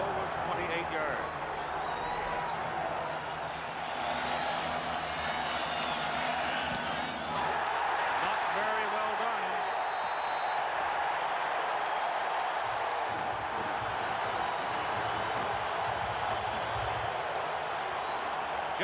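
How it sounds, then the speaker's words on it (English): A stadium crowd at a 1994 college football game between Penn State and Michigan roars steadily throughout, loud and continuous, with a play-by-play voice talking over the din. "And the crowd roars some more."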